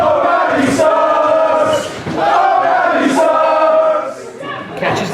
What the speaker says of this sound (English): you can hear this crowd in Bury St Edmunds firmly behind her